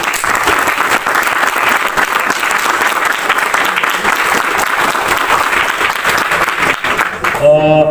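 Strong, sustained applause from the audience at a Levies training centre passing-out ceremony in Khuzdar, Balochistan, honouring graduates and their teachers; loud continuous clapping ending with a brief tonal sound.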